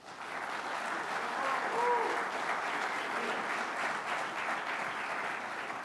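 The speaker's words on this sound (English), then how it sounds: "So I'd like to give him a big round of applause." Audience applause at a welcome and keynote event, a steady, dense wash of clapping throughout with faint voices mixed in.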